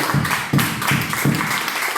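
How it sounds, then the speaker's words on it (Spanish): Clapping from a church congregation during a service, with loud, rhythmic bursts landing roughly every third of a second, close and full, and no talk over them. "Denle el aplauso fuerte a Dios si lo cree"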